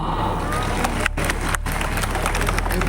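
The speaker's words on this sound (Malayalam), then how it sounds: "ഒരു നല്ലൊരു എനർജി ഒന്ന് കൈയടിക്കാമോ?" Audience clapping and cheering at a live actress event in Kerala, a dense steady wash of applause with crowd hubbub, brief dips, and no voice standing out.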